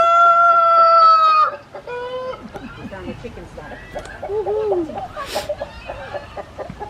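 A rooster crows loudly up close at Mountfitchet Castle, followed by chickens clucking and murmuring nearby, with people talking in the background.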